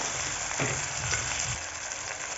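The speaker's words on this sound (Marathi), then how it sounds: "वांग्यांना छान असं हलवून घ्यायचं" Eggplant pieces frying with garlic-ginger paste are turned in a hot pan, giving a steady close sizzle with a few soft stirring scrapes and no talking.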